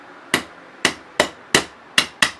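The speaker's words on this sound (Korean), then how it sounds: "그래서 톡 쳐줘서 넣으시면 되고" A plastic hammer taps a metal replica pistol slide (Marui G18C airsoft) into place with six sharp, evenly spaced knocks, close and crisp, with nothing else heard.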